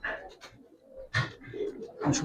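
Two Giribaz pigeons, a pair with the hen carrying eggs, coo in a few soft bursts at close range, with brief breathy sounds between them.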